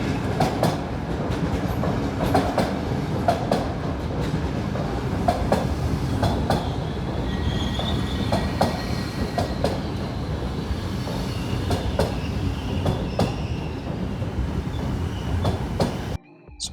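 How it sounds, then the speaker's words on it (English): Passenger train running on rails between Frankfurt and Augsburg, heard from inside as a steady rumbling ride with rhythmic clicks of wheels over rail joints and faint squeals, continuous and moderately loud. "So our new train arrived and we settled ourselves in for the journey to Augsburg."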